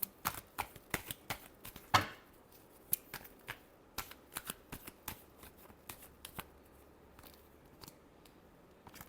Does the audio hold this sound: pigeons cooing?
no